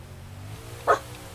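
A single short dog bark rings out near the end, moderately loud over a low steady hum from a racing game playing in the background.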